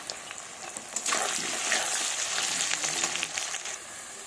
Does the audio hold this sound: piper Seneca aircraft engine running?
no